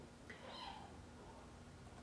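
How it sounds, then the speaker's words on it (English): A small kitten gives a faint, brief meow in a quiet room, heard once, soft and slightly distant against low background hum. "You can hear our kitten."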